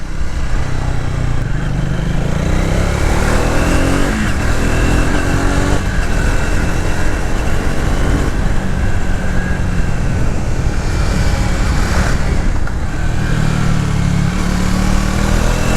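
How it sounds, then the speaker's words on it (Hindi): A 2026 Triumph Speed motorcycle ridden on the road, its engine drone steady and loud throughout with rising and falling pitch as the throttle changes, plus wind rush and no talking. "अभी मैं इस मोटरसाइकिल को चलाता हूँ अपने तरीके से"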